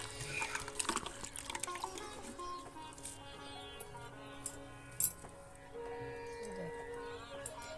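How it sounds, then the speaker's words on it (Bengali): Fresh coriander leaves rinsed under running water in a home kitchen, a soft steady trickle and splash with faint clinks, fairly quiet and close. "চলো চটপট ধনে পাতাগুলোকে ধুয়ে নিই"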